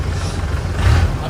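A Willys Jeep, an old U.S. military jeep, running on the road in Chennai, a steady low engine rumble close by with a slight swell in revs, continuous throughout.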